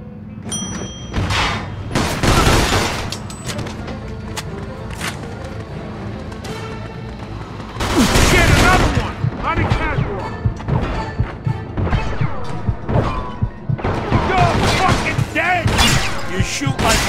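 Gunfire in the video game Mafia 2 comes in heavy crashing bursts and booming volleys, loud and close, with voices shouting amid the shootout.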